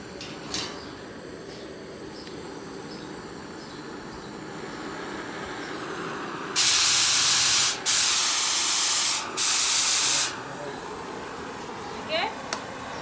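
Oxy-acetylene cutting blowpipe flame during a cutting lesson, a loud broadband roaring hiss in three bursts broken by short gaps, over a quieter background hiss.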